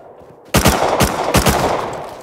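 Rapid video-game gunfire, a burst of loud close shots in quick succession after a brief quiet start.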